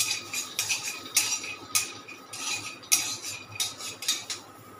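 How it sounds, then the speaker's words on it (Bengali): A utensil scrapes and clinks against a pan while ground nuts are stirred in a Bengali kitchen for pineapple ice cream, giving about a dozen bright, irregular metallic taps over a steady low hum, with no talking. "এবারে বাদামগুলো আমি একটু এর মধ্যে নাড়াচাড়া করে নিচ্ছি"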